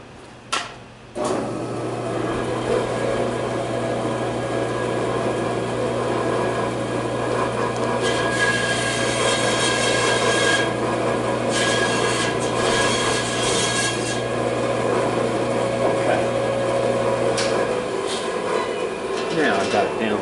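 A small whittled wood figure is sanded down with a steady, continuous rasping rub that runs close and loud for most of the stretch, then stops abruptly.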